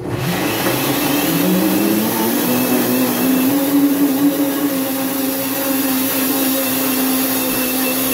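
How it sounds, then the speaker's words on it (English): A kitchen blender runs continuously while blending a coconut, chocolate and caramel mixture, a loud close motor whine that shifts pitch slightly and stays steady throughout, with no talking. "So I'm going to give that a blend."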